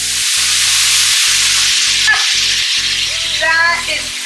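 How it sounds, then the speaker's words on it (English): Onions sizzling steadily in a frying pan, a close, continuous crackling hiss under a steady background hum. "Okay, listen for the sound. There it is. So the onions have been cooking for about a minute."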